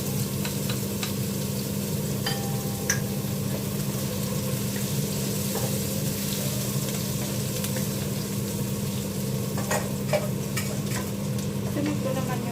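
Garlic frying in a pan for Filipino adobong sitaw in a home kitchen, giving a steady, close sizzle throughout with occasional faint pops and utensil clicks.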